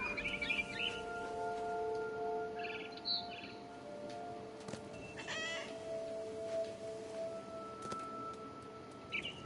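A cat meows and caterwauls in the game What Remains of Edith Finch, short mewing calls over a soft ambient bed with chirping birds and faint tonal hums.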